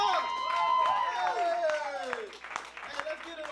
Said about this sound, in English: I just need a small round of applause